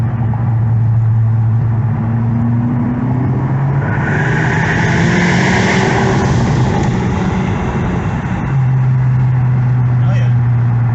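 A Honda Civic Type R engine drones loudly and climbs in pitch under acceleration, then drops back to a steady hum as the car settles. Voices talk inside the cabin over the engine noise.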